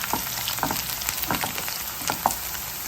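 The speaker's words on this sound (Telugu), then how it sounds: "ముందుగా నానబెట్టుకున్నటువంటి ఈ చికెన్ అంతా కూడా వేసి మనం బాగా హై ఫ్లేమ్లో ఒక 2 నిమిషాలు బాగా కలుపుకున్నాము" Marinated chicken pieces fry over a high flame in a pan for pepper chicken fry, giving a close, steady sizzle broken by short scraping stirs.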